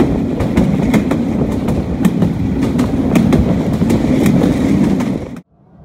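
A local train between Rangpur and Parbatipur rumbles loudly along the rails, heard close from on board, with a steady clickety-clack of wheels over rail joints before the sound cuts off abruptly.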